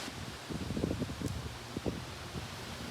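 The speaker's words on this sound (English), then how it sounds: "the wind is blowing like crazy, man, today" Strong wind gusts through a garden, buffeting the microphone with irregular low rumbling bursts over a steady windy hiss, with no one talking.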